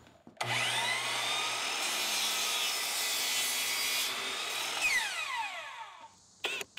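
A saw cuts a 45 degree angle through a wooden post for several seconds, a continuous loud rasping drone that ends with a brief clatter.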